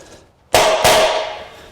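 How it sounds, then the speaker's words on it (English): Two sharp, close hammer blows on a punch mark starter points for drill holes on a 1949 Chevrolet gasser. Each strike gives a bright metallic crack with a short ringing decay, the second following about a third of a second later. "We'll punch the holes a little bit deeper so we got a starting point for our drill"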